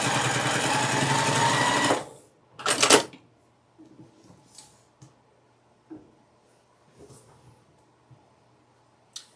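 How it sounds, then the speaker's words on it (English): A sewing machine stitches two fabric pieces together with a 1/4 inch seam, a dense rapid whirring run for about two seconds followed by a short burst, then quiet handling clicks and rustles. "I'm going to just sew these two pieces together using a 1/4 inch seam."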